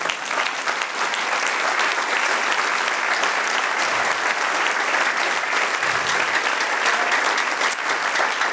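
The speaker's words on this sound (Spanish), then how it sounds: "denle un aplauso al Señor." Loud, sustained applause from a church congregation during a Spanish-language sermon, many hands clapping evenly and densely throughout with no pause.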